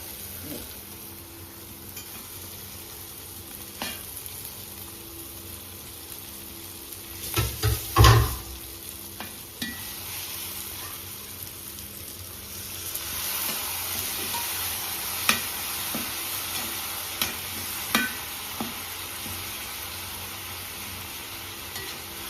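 Mussels fry and sizzle in a pan for a Kerala-style mussel roast, a steady low crackle with scattered stirring scrapes and a louder clatter near the middle, no voices.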